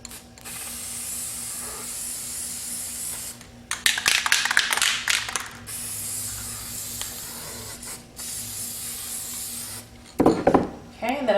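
Spray adhesive is hissed from a can onto jeans in bursts of a few seconds each for a glitter craft, with quieter gaps and some brief handling taps between sprays.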